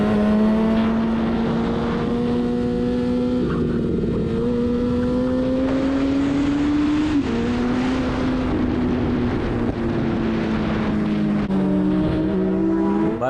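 Suzuki Hayabusa motorcycle being ridden hard, a loud close engine drone with pitch rising and dipping through gear changes and throttle shifts, continuous throughout with wind rush.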